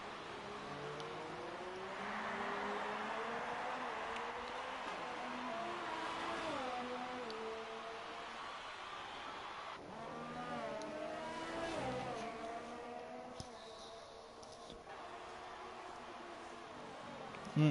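F1 race cars in F1 2018 at the Canadian circuit scream past with rising and falling engine whine, high revving tones sweeping up and down through gear changes, steady and moderately loud with commentary over it.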